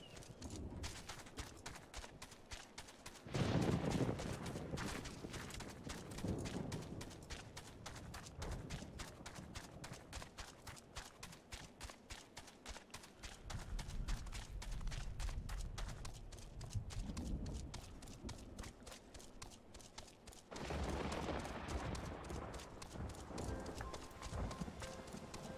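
Steady clip-clop of a mount's hooves while riding in Final Fantasy XIV, a rapid even rhythm running near and loud throughout, with a brief louder swell midway and game ambience underneath.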